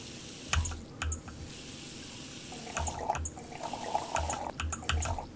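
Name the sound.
water tap running in Cooking Simulator video game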